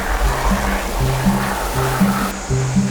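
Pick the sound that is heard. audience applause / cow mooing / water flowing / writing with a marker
water flowing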